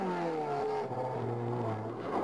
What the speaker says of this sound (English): Next up is the 2-litre Clio of Tommy Doyle